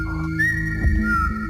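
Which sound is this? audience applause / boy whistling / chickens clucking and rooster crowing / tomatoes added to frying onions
boy whistling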